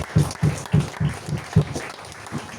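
A church congregation applauds in a steady, rhythmic clap of about three beats per second, moderately close and fairly even throughout.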